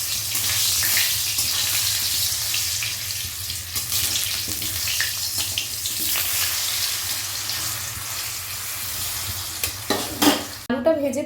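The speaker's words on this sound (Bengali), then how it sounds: "একটা আলুকে 2 ফাঁক করে দিয়ে দিয়েছি তেলের ভেতর, আর এটাকে একটু ভেজে নেবো।" Potato halves sizzle and fry in hot oil in a pan for a mutton kosha dish, a steady crackling hiss broken by stirring, scraping and clatter toward the end.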